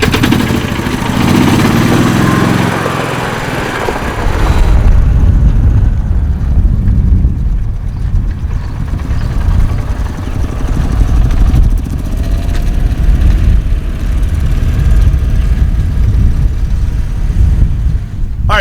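Jacobsen utility vehicle dragging a baseball infield at a park, its engine droning steadily and close for the whole stretch, with a brief rougher rumble near the start before settling into a continuous idle-like hum.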